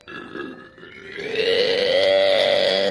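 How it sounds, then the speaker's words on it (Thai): A low, rasping koala bellow, starting with grunting snorts and rising into a loud, drawn-out groaning call. "ตัวที่เจ็ด โคอาล่าครับ ใครจะคิดว่าน้องโคอาล่าแสนน่ารักทำไมเสียงน่ากลัวอย่างนี้เนี่ย"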